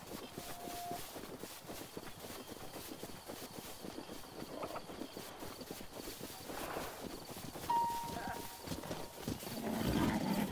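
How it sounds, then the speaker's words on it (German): Horses in The Legend of Zelda: Breath of the Wild trot with steady clip-clopping hooves over a continuous outdoor game ambience, with a brief whinny-like tone near the end. "Wie die Pferde einfach total entspannt sind, wenn ich komme."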